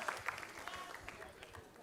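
Audience applause for a singer at a Voice of Ramadan singing show, a brief faint patter of clapping from a crowd, low in level and fairly distant.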